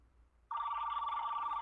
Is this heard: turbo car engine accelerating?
no